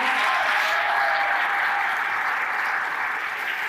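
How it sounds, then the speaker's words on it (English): Audience at a school winter concert applauding steadily, a dense, even wash of many hands clapping that holds at full strength for the whole stretch, with no voices breaking through. "Big round of applause for our admin team."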